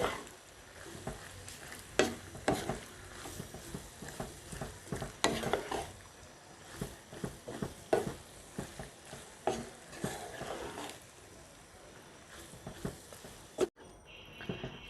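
Spicy pasta with red chili powder being stirred and cooked in a pan, quiet sizzling under repeated scraping and clinking strokes of a spoon at an irregular pace.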